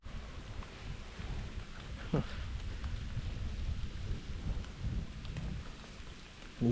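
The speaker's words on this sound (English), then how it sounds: "You can see the hailstorm." A hailstorm in the mountains near a glacier, with a steady dense patter of falling ice and rain and a low, rumbling wash, heard outdoors close by, with a brief sharp knock partway through.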